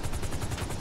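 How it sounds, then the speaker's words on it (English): Rapid automatic gunfire in the video game GTA V, a dense, even burst of shots lasting under a second, fairly loud with no talk over it. "Oh shit, we're taking fire!"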